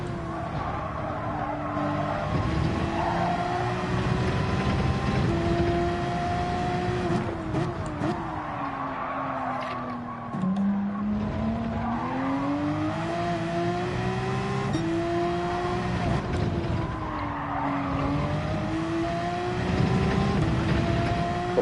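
Race car engine in Gran Turismo 7, a steady loud drone rising and falling in pitch through repeated upshifts, downshifts and throttle changes, with occasional tire squeal as the car laps the track.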